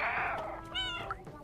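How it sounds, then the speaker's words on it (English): A single stray cat meows in the video game Stray, close and clear, a short drawn-out cry with a rising and falling pitch. "Meow."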